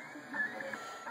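A PrintrBot V2 3D printer prints a Nautilus gear, its stepper motors giving a steady, faint whine with small rising tones, close by and without speech.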